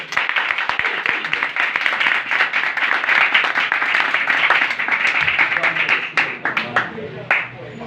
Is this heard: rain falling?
no